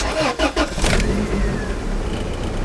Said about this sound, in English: see if what we did to adjust the idle actually helped on the cold start, because this thing has been having really rough cold start